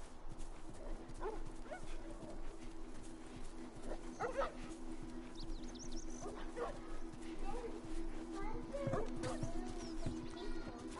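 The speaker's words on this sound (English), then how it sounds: "Aw, doggies. You're gonna want to stay away from those." Wild dogs in The Last of Us video game bark and yip in scattered bursts over a low ambient game hum, with a person talking at times.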